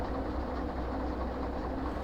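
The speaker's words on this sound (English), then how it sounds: "Why is that tram moving?" A tram rolls slowly on rails in the train simulation game Derail Valley, a steady low rumble with faint rail clatter, continuous and moderately loud with no talk.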